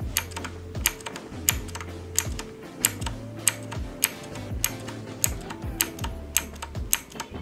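Keys are pressed one at a time on a Rampage KB-R19 metal gaming keyboard, sharp close clicks at an irregular, unhurried pace, about a dozen presses over a low steady background hum.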